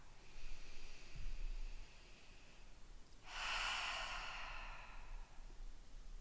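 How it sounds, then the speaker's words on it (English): A yoga participant lying on the belly sighs a breath out through the mouth, a soft breathy whoosh following a fainter earlier exhale, close and quiet. "take a couple of breaths out through the mouth where you just sigh the breath out"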